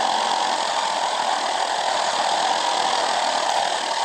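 Steady, loud truck engine drone from the Truck Driver 2 video game, climbing a mountain in second gear with an automatic transmission, constant and unbroken throughout.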